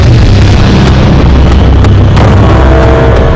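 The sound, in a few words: explosion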